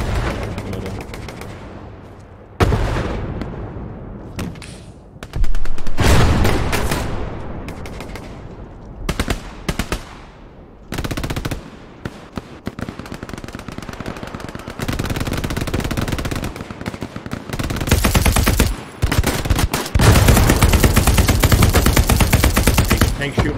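Heavy gunfire erupts in the World War II shooter Hell Let Loose as a tank fires on soldiers, loud bursts and booming shots in ragged clusters that grow denser toward the end.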